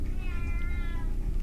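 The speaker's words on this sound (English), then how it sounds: "There is definitely a cat making cat sounds." A cat meows in the video game Shogo: Mobile Armor Division: one drawn-out, clear meow over a low, steady bed of game noise.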